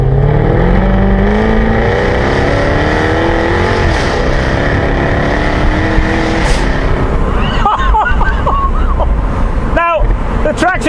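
A powerful sports car engine roars and revs hard, climbing through gears with sharp rises and drops in pitch, loud and close.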